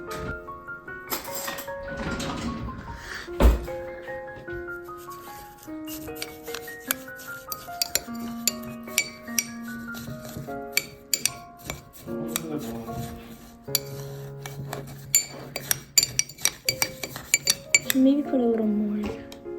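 Spoon stirring a snow mixture in a bowl, with repeated clinks and scrapes against the dish under cheerful music and occasional talk.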